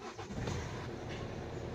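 A 2016 Hyundai Accent CRDI diesel engine idles and revs up steadily, a close, continuous low rumble with no talk over it.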